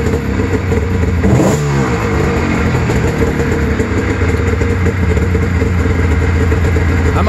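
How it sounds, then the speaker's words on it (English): A snowmobile with an 800 engine and flat-slide carbs runs steadily close by, a loud continuous idle with a brief rev swelling near the start before settling back to a rough, even drone. "Bump the RPMs up on the idle a little bit, get it up to like 1750."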